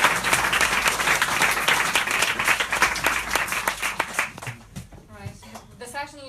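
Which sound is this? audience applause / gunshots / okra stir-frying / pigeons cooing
audience applause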